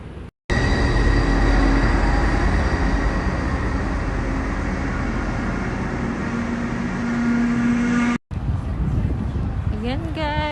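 A train at a station in Ashdod makes a loud, steady rumble with a rising tonal whine, cut briefly twice. Voices talk near the end.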